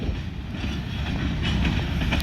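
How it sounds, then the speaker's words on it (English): A freight train carrying LP product rolls past nearby, a loud continuous rumble of wheels on track with faint rhythmic clatter and brief metallic squeals, no voices over it. "Lots more LP product heading south."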